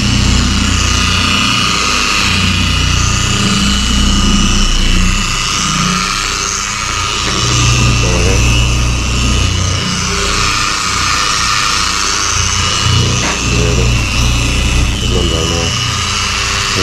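A car polishing machine runs steadily against the black paint of a Honda Civic FN2 Type R, a loud continuous motor drone with a dense hiss that stays constant throughout, with faint voices underneath.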